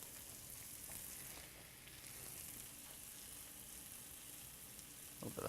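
Potatoes frying in a pan for a fennel potato hash, a steady bright sizzle crackling continuously close up, with a few stirring scrapes near the end and no talking.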